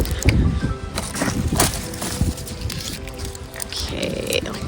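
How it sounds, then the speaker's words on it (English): Gusty wind buffets the microphone outdoors in a backyard garden during autumn pruning and transplanting, rumbling unevenly under a person's talk. "This wind is really something today."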